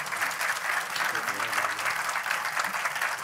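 A hall full of people applauds at the opening ceremony of a film festival, the clapping dense, even and sustained throughout with no break.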